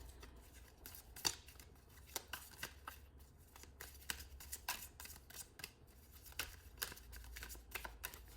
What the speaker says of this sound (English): It's wonderful to shuffle.